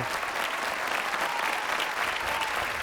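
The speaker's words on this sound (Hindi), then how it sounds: "एक बार जोरदार तालियां शाहिद साहब के लिए" A large audience at the Jashn-e-Rekhta grand mushaira gives the poet Shahid a dense, sustained round of loud applause that holds steady throughout.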